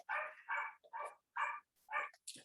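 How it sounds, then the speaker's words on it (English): A puppy gives a quick series of about six short, sharp barks and yips, close by and fairly clear, with brief gaps between them. "Do you guys hear the puppy?"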